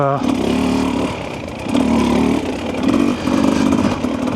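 Husqvarna TE300 two-stroke dirt bike, 2025 model, burbling and rising and falling in uneven surges at partial throttle, close and loud, with a rider talking over parts of it.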